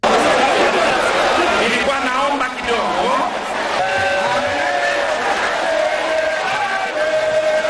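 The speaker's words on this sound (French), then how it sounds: "la place de la Grande Poste qui était bondée d'une foule compacte" A dense crowd packs a square at a political rally, a loud, continuous roar of chatter and scattered shouts filling the whole stretch, with voices up close mixed into the mass.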